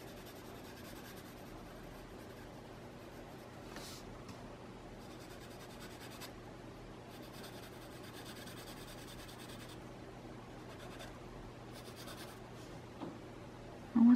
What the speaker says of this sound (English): Then I'm gonna go ahead and shade. Give me my pencil.